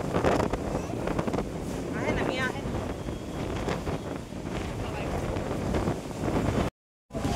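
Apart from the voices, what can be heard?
strong wind at the beach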